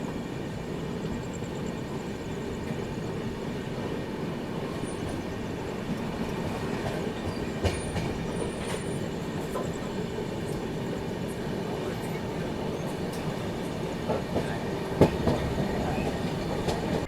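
Vivek Express train rolling along, a steady rumbling roar with faint clickety-clack of wheels over rail joints and occasional squeaks, continuous and fairly close, no talk.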